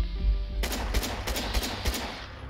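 Gunfire in the VR video game Fallout 4, with a rapid burst of several loud shots following a low rumble, close and alone.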